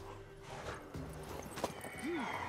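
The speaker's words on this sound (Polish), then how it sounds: "Klacz jest twoja." A mare's hooves clip-clopping in the video game The Witcher 3, a few soft, close hoof steps over ambient background, followed by a short rising and falling tone.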